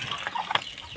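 A chicken clucks in short, close bursts at a rural Filipino home where lunch is being cooked for rice planters, over a faint background hiss with a few watery sounds.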